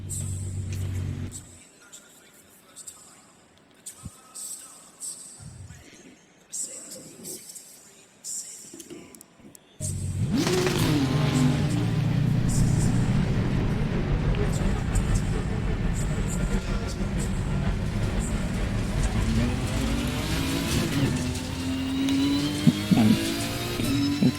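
A Mercedes race car in Assetto Corsa Competizione at Mount Panorama, starting quietly and then roaring into a loud, sustained engine drone with rising and falling revs, while voices talk over it.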